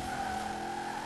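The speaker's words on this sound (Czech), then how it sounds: "To je, jaký drift to udělalo?" Tires squeal steadily as a car drifts through a turn in Forza Horizon 4, a sustained high screech over a low engine drone for about a second.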